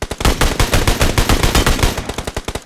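Rapid automatic gunfire in the BGMI battle royale game, a dense burst of closely spaced loud shots that thins into separate spaced bangs near the end.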